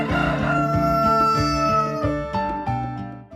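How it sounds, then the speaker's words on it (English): Roosters crow one after another in a chain, long overlapping calls rising and falling, fairly close and loud over a dense outdoor backdrop with no talking. "One rooster crows and then the next rooster crows"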